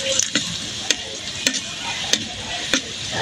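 Half-fried onions with panch phoron sizzle steadily in a pan for a jackfruit-seed dal, while a spoon scrapes and clicks against the pan about every half second, close and fairly loud.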